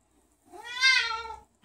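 A cat gives a single drawn-out meow that rises and falls, close and fairly soft, alone in a quiet room.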